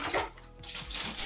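A bucket is rinsed under running tap water in a home kitchen, with steady splashing and hollow clunks and scrapes of the container moving under the stream, fairly quiet and close.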